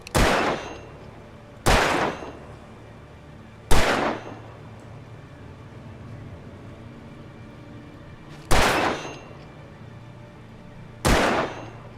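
Five sharp, loud gunshots from Alan Wake 2, spaced unevenly a couple of seconds apart, each ringing briefly over a low dark ambient drone.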